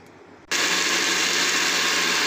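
An electric mixer grinder starts abruptly and runs steadily on a jug of ingredients for iftar food, a loud, continuous high-pitched whirring roar with no talking.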